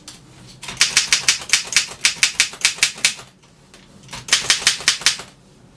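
A 1936 Ideal typewriter's carriage slides along the platen with a rapid, even run of loud, close ratchet clicks, a brief pause, then a second shorter burst of clicks.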